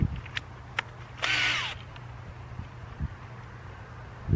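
A power drill fitted with a countersink bit whirs in one short burst, with a few light clicks and knocks before and after it, and no talking.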